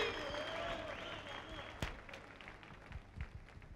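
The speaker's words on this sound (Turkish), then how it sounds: "Alkışlıyoruz Didem'i" Applause from a studio audience on a 2005 Turkish TV show, a quiet, blurred patter of clapping with faint tonal music under it and a sharp knock near the middle.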